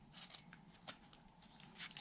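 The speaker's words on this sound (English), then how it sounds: "just shaving the wood very gently" Light shaving cuts of a whittling knife on a small wooden door-frame piece, heard as a few soft, scratchy strokes in quick succession, close and fairly quiet with no talking.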